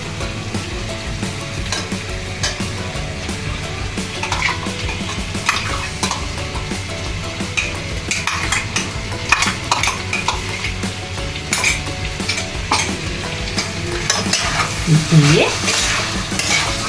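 Green paste frying and being stirred into chicken in a pan for a Bengali green chicken curry, with steady sizzling and frequent scraping and clinking of a utensil against the pan throughout.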